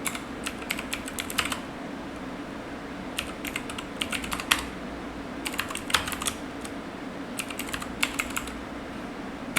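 Someone types on a computer keyboard nearby in quick bursts of clicking keystrokes separated by short pauses, over a low steady background hum.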